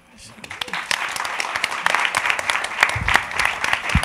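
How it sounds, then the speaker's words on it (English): Audience applause for the panelists at the close of a modern media panel event, a steady dense wash of clapping that swells slightly midway, with a voice talking over it. "Please give another round of applause"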